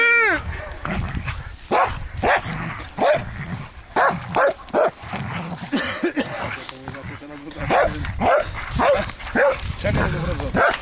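Hunting dogs bark in repeated sharp yelps and bow-wows out in the field, close and loud, with people talking over and between the barks.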